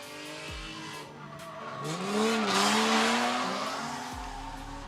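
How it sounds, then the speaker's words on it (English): Drift cars at a competition slide through a corner with long tire squeal and engine revving rising in the middle, the roar swelling and fading as they pass at moderate distance. "Smith and Chase dipping a little bit of tire there, using a little bit of handbrake to get around that first inner clip 1"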